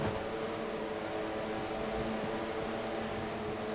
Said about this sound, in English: 40 V6 engines come to life at Michigan Speedway in Brooklyn, Michigan